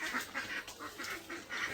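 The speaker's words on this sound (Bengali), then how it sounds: "এই যে হাঁসগুলা পানিতে চলে গেছে" Domestic ducks that have just been let out to a village pond after feeding, giving repeated nasal quacks and honks close by, several calls overlapping over a couple of seconds.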